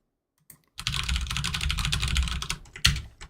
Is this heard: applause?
no